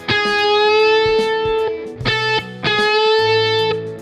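An electric guitar with distortion plays a sustained note, then a string is bent up a half tone. The phrase is repeated three times, loud and close, with no talking.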